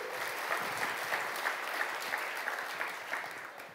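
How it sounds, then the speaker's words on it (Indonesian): A church congregation applauds together during a Sunday worship sermon, continuous dense clapping with light rhythmic peaks, fading slightly at the end. "Tepuk tangan sama-sama, saudara."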